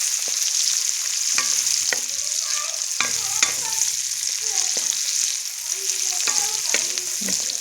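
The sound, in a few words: chopped onion frying in oil in a wok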